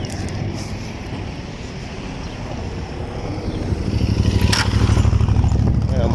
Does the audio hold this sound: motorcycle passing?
yes